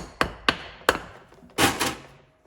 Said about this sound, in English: we have to use a little plastic hammer